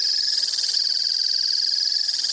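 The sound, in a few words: recorded true triller animal call, continuous trill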